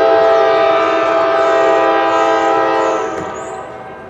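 Norfolk Southern freight train with three or four locomotives passing and sounding a loud multi-tone air horn, one long sustained close blast that fades near the end.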